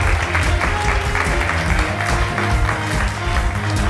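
A studio audience at a televised quiz show claps loudly and continuously for a contestant, a dense, even roar of hands with a low rumble beneath and no talking.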